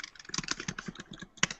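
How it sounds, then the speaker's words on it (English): Fingers type on a computer keyboard in a quick, uneven burst of close, crisp key clicks, ending with a slightly louder keystroke. "I'm here typing."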